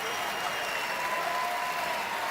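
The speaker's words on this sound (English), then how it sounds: "Crowd giving Alex Hobbs on senior day a nice ovation." A basketball crowd applauds a senior-day ovation at a Boise State home game against New Mexico, a dense, steady wash of clapping filling the arena.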